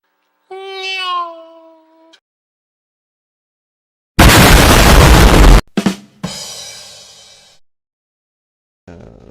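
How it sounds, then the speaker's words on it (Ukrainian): In the video game Garten of Banban 2, a rocket fired from a cannon bursts out as a loud, dense blast lasting over a second, followed by a sharp bang and a fading rumble, after a short meow-like tone. "я взяв ракету, стріляю тут, і в нас відкривається секрет"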